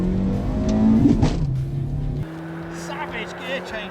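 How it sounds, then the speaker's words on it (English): Suzuki Liana rally car with a non-synchro gearbox revving hard and flat-shifting through gears, the engine note dropping abruptly at each change, loud and close, with a voice talking over it. "Savage gear changes. He's flat changing."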